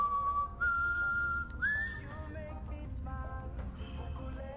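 In Far Cry 3, a whistle signal sounds as a long, steady, high tone that rises briefly in pitch before fading. Fainter whistled notes follow over a rumbling in-game background.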